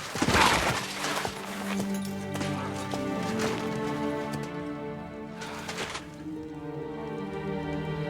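Horse in the medieval role-playing game Kingdom Come: Deliverance 2, with a loud hoof clatter and whinny at the start, then hooves and game sounds carrying on under a steady music-like layer.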